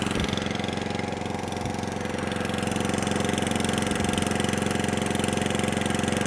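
An Atco Balmoral cylinder lawnmower engine runs steadily off choke, a close, loud continuous idle with an even throbbing rhythm and no talk.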